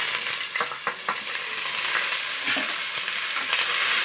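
Four large sliced onions sauté in oil for mutton biryani, a constant close sizzle broken by the rhythmic scrape of stirring, with no voices.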